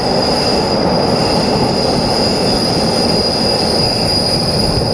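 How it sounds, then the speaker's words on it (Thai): Brakes of a Phitsanulok–Bangkok train arriving at Don Mueang station squeal with very loud, high, sustained metallic tones over a loud, constant rumble of wheels on rails. "รถไฟ ขบวนนี้ครับเบรกจะดังมากครับ"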